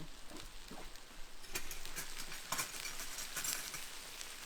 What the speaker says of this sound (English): Great sizzle. it is a good sizzle.